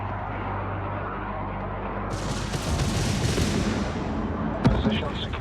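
Sustained gunfire and explosive booms in the space strategy video game Homeworld 3, a dense rumbling barrage that swells mid-clip with a sharp crack near the end, with voices faintly mixed in.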